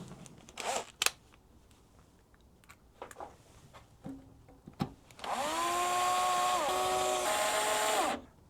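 Three screws fasten a cover onto a DIY 16 kWh battery, with scattered handling knocks and clicks followed by a cordless driver whirring steadily for about three seconds at close range.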